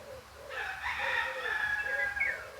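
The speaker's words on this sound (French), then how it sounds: "le chant du coq." A rooster crows outdoors, one long drawn-out call rising and holding for about two seconds, moderately near, over a quiet background with soft bird chirps and low ambient rumble.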